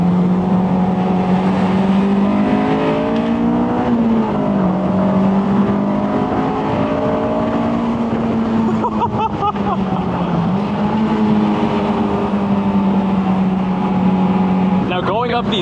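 A Honda S2000 AP2 engine drones loud and close from inside the car as it accelerates uphill, its pitch climbing through the gears with brief dips at shifts, and a voice talks over the engine.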